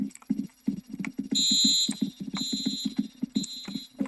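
A repeating electronic alarm rings in the Roblox game Brookhaven, its bursts of high tones coming and going over a steady game background thick with short rhythmic thumps.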